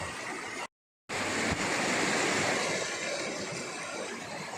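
Steady, loud rushing of the cold Gola River fills the scene, a broad roar of flowing water broken only by a brief moment of silence near the start.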